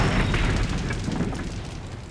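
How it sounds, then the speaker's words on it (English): A huge ship explosion in a naval battle scene from the 1805 Battle of Trafalgar, a loud deep boom that rolls out and slowly decays over about two seconds, with no voices. "The explosions were so huge that they ripped the ship apart."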